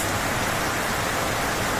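Heavy rain pours down steadily in a dense, even roar of drops, with no voices or other sounds rising above it.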